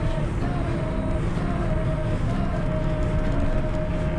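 A passenger train runs on its rails near Chuncheon Station with a steady, loud rumble and a faint thin whine riding on top, unbroken throughout.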